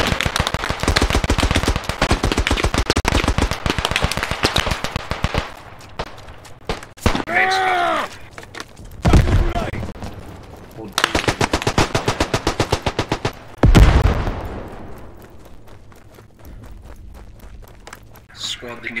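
Repeated long bursts of machine gun fire in the World War I shooter Beyond the Wire, loud and rapid with brief pauses, mixed with groans and heavy thuds, while players talk over the gunfire.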